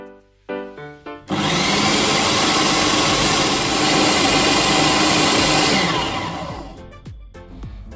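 Food processor grinding digestive biscuits into crumbs, starting with a few short pulses then settling into a loud, steady motor whir for about five seconds before winding down and stopping with some rattling.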